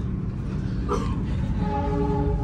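A train pulls into Purwokerto station in Indonesia with a steady, loud rumble that fills the scene, and a sustained horn-like tone rises near the end.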